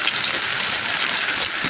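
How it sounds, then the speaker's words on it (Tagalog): Heavy rain pours steadily, a dense, loud hiss of drops striking surfaces without a break, with no voices over it. "Yan yung napakaulan guys oh. Diba? Ang ulan."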